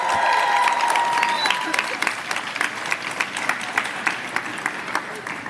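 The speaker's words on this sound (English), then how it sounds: "now I want you to applaud all the people who helped you get here" An audience at a ceremony honoring New York City public school valedictorians applauds teachers, principals and parents, a loud sustained round of clapping with some cheering at the start.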